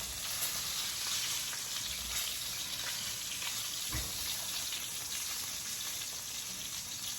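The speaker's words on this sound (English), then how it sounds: "you still need to do a little bit of basting. Brown butter now." Soft, steady sizzle of brown butter being basted over food in a pan on a home stove, fairly quiet with faint spoon movements and one brief low thump; no speech.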